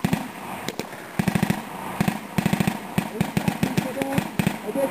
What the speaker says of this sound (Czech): A snaží se oslepit kulometnými granáty.